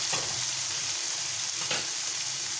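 Onions and tomato fry in a pan in a continuous, fairly loud hiss and crackle, with occasional stirring scrapes and no voices.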